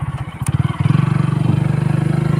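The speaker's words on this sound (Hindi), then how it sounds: "अब हम यहाँ बाइक में बैठकर आपको" A motorcycle's engine chugs close by with a rapid, pulsing beat, then rises into a steadier, stronger thrum as it gets underway on a rural road.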